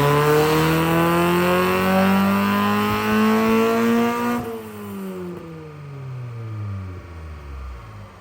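A Toyota AE86 with a Beams engine makes a full-throttle pull on a dyno, the loud, close exhaust note climbing steadily in pitch before the throttle lifts and the revs wind down.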